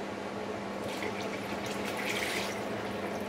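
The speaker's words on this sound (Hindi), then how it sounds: "इसमें ये लस्सी जो है ना ये आप डाल दें" Lassi is poured into a pot to make Punjabi-style kadhi. A steady, close liquid stream splashes and gurgles without a break, and no one speaks.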